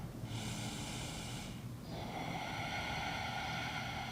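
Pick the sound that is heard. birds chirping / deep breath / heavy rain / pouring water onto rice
deep breath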